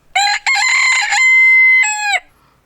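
A chicken crows loudly and close by in a full cock-a-doodle-doo, with a short break after the first note and a long sustained middle call.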